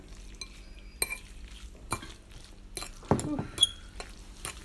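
Spicy ramen noodles stirred in a bowl, with soft scraping, slurry clinks of a utensil against the dish and intermittent wet clatter, close and moderately quiet.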